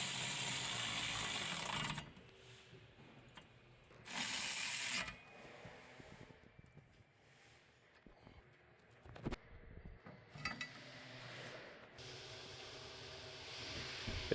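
A ratchet clicks in short bursts, tightening a bolt on the knuckle during a rear wheel bearing replacement on a Chevy Volt, close and fairly quiet, with pauses and brief mechanical clatter between bursts.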